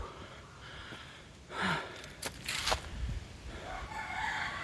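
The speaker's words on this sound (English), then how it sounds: "Hello, chicken." A rooster crows outdoors on a steep hillside walk near Todmorden, a fairly close call rising over light wind and background noise, with a second burst following shortly after.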